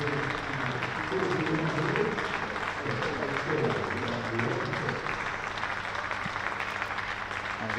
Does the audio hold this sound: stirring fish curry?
no